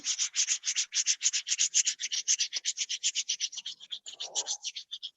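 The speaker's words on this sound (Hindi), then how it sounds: "दोनों हाथों को रब करें।" Both hands rub briskly together in a fast, even back-and-forth rhythm of dry, scratchy swishes, close and quiet, with no talking over it.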